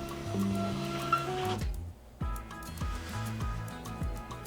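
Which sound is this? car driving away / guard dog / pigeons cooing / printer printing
printer printing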